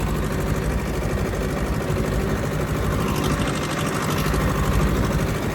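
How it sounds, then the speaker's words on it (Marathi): A diesel farm tractor engine running steadily under load in the right gear and RPM, a loud, close, continuous throbbing drone with no breaks or talking. "बरोबर गिअर, बरोबर RPM ठेवले, ट्रॅक्टर मस्त चालतो."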